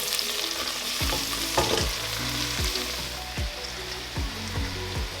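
Leeks fry in butter in a pan over medium heat, a continuous close sizzle with rhythmic scraping and knocking as they are stirred, no voices.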